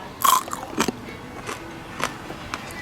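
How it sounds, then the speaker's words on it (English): Crisp crunching bites into roast pig skin from a La Caja China pig roast, a loud first crunch followed by several lighter crackly crunches spaced about half a second apart, close up. "That's a crunch, man."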